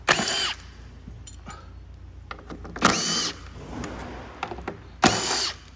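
A power tool loosens fixing bolts on the fuel cell stack of a Hyundai Nexo hydrogen car, three short loud bursts of whirring spaced a couple of seconds apart, with clinks and handling noises between them.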